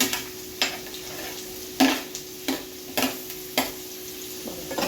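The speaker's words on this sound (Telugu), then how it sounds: "ఆయిల్ మరిగిపోయింది. ఎక్కువ ఆలస్యం చేయకుండా మనం ఉల్లిపాయలు వేస్తున్నాం" Onions frying in hot oil, with a steady sizzle broken by a few sharp stirring scrapes and clinks at irregular intervals, close and fairly loud, with no talking.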